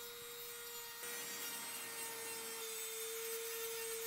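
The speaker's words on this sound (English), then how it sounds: "Using the sanding wheel, we just cleaned up everything and made it look really professional." A sanding wheel grinds against wood in a steady, raspy rubbing drone with a high motor whine, fairly quiet and close.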